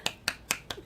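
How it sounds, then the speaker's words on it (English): Four sharp, evenly spaced hand claps from a single person, close and dry, each a crisp snap-like burst in under a second. "I'm clapping for everyone out there who can't clap for you guys"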